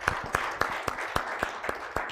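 Members of a church congregation clap in a regular, steady rhythm, about eight sharp claps over two seconds, close and fairly loud with no talking.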